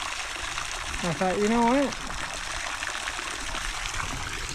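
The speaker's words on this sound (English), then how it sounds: "We always, in the summertime, run water over to the duck trough to get some fresh water in it every day." Water runs steadily from a hose into a duck trough outdoors in summer, a constant close splashing trickle that continues beneath a man's brief spoken remark.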